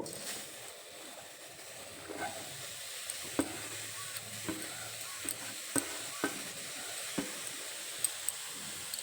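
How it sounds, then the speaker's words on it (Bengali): Radish greens dropped into a hot kadai over a gas flame give a steady low sizzle throughout, broken by sharp, scattered crackles and pops. "মূলো শাকগুলো কড়াইতে দিয়ে দিলাম"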